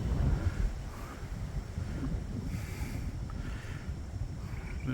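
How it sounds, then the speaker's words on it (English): Wind blows steadily across a wooded campground near a lake in Oklahoma's Potato Hills, giving a constant low rumble of gusts that buffet the microphone, with a faint airy hiss above and no voices. "There's a little wind kicking up."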